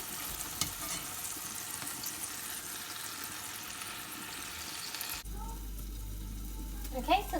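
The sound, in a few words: steak frying in a pan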